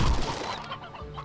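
Briar Hens from Slime Rancher cluck over a busy, loud game backdrop, the clucking brief and partly masked with no speech.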